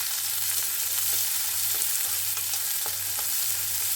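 Chopped onion and green chili frying in a pan of oil with asafoetida, a steady close sizzle with occasional scrapes and clinks as the mixture is stirred, and no voices.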